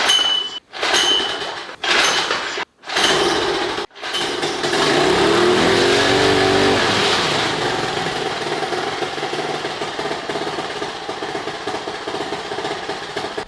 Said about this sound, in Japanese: よし、そしたらエンジンかけてみます。